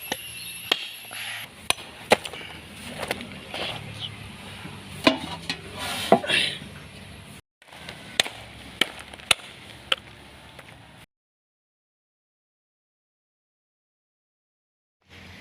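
Buffalo leg bones chopped with a blade for a pothum kaal dish: a run of sharp, irregular whacks for about eleven seconds, some heavier than others, with a brief pause midway, then silence.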